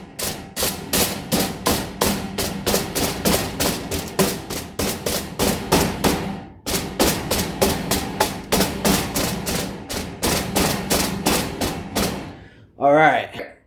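Hammer pounding BBQ ribs to flatten them: a long, steady run of rapid, loud thuds with a brief pause midway, close up and alone, ending in a short burst of speech.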